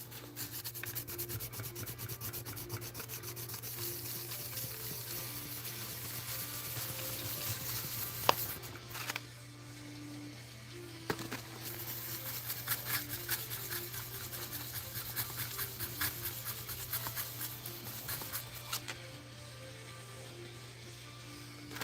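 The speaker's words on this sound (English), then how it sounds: "Slowly try to scuff it out." Hand scuffing of a surface at a workbench, a quiet continuous rubbing and rasping in even back-and-forth strokes with a few brief knocks, close and alone.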